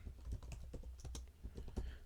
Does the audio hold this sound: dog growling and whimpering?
no